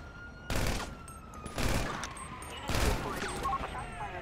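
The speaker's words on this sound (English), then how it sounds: "Somebody shooting at me?" Gunfire in GTA V on PC with mods: three loud, sharp bursts of shooting about a second apart, each trailing into a rumbling echo.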